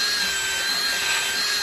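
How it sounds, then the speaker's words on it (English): Cordless drill spinning a rotary brush to buff wax on wood, a continuous high whirring drone with steady tone, close and unbroken, no voices. "we use a cordless drill, and we just pop it in there like that"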